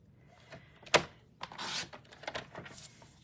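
A paper trimmer cuts cardstock in a quiet room with a sharp snap followed by several brisk slicing swipes and soft rustles, close and moderately loud.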